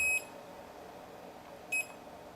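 Two short, sharp electronic beeps from a multimeter testing continuity across a faulty inductor on an iPad Pro board, spaced about a second and a half apart over quiet room tone.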